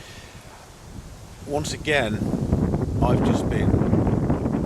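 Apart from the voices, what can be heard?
wind blowing into microphone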